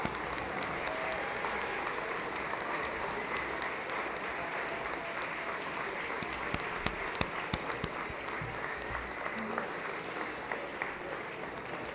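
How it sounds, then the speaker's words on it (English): Standing applause from a large dinner crowd honoring the faculty and staff of Columbus Torah Academy at its annual scholarship dinner, a steady dense wash of clapping at moderate level that holds evenly for the full stretch. "give them a round of applause"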